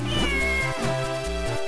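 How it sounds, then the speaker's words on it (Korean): A cartoon cat meows in the Zelda: The Minish Cap video game, one drawn-out electronic mew riding over looping chiptune background music. "고양이 있네, 고양이."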